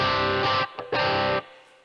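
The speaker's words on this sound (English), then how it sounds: "we get sort of like a lighter gain crunch sound" An electric guitar played through a Tech 21 Trademark 10 amp with light gain crunch rings out in two strummed chords, each sustaining briefly before cutting off, with a short muted scratch between them.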